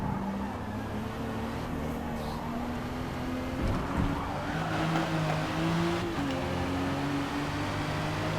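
Racing game engine of a 2020 Toyota Supra at the Nürburgring GP, revving with steady harmonic drone and rising gear pitches while the rear hard-compound tyres spin, a faint squeal riding over the engine throughout.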